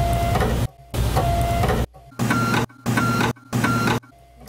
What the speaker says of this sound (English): I think this computer whirring noise was better.